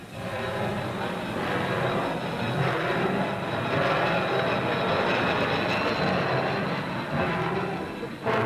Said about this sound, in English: powerful diesel locomotive.